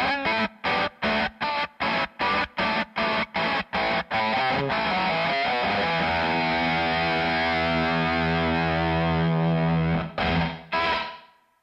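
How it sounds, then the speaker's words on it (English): A Velcro fuzz guitar pedal set to sputter like a dying battery or bad bias: about a dozen short, choppy distorted bursts, then a sustained gated fuzz chord that holds for several seconds before cutting off, loud and alone. "the Velcro fuzz where it sort of dies, like it's not biased right, you know, or it's got a battery that's nearly dead"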